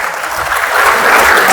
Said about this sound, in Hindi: तालियां चाहूंगा